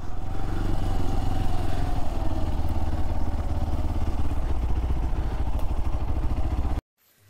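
A motorcycle engine runs steadily and loudly near the parking area at the forest-road trailhead to Jogigundi Falls, a continuous mid-pitched rumble that cuts off abruptly at the end.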